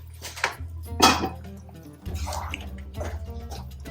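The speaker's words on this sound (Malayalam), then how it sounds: "ചോറ് തിളക്കുന്നുണ്ട്." Rice boiling in a pot while Thalassery biriyani is cooked, with soft bubbling, drips and occasional metallic clinks heard close under a person talking.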